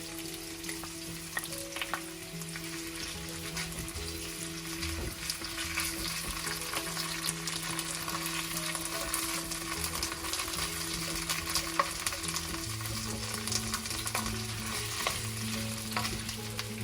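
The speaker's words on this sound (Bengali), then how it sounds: "হালকা নাড়াচাড়া করে আমি আদা রসুনের পেস্টটা দিয়ে দিচ্ছি।" Ginger garlic paste frying in a pan for Chinese chicken chow mein, a close, steady sizzle with occasional stirring clinks and a constant low background hum, no talk.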